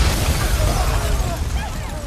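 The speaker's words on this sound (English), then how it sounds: "As soon as James turns the call off, the explosion occurs" An explosive jacket blows up in a film scene, a dense, sustained roar of low rumble and crackling debris that stays loud throughout, with no talk over it.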